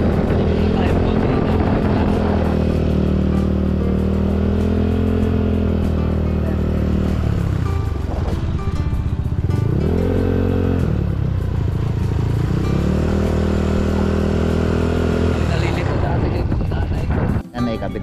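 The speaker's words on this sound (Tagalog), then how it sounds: "Ay atin lang mo nang iinit ng ating makina." A motorcycle engine warming up at idle before a registration renewal, a loud steady drone with harmonics that rises and falls with blips of throttle, running continuously close to the microphone for most of the clip.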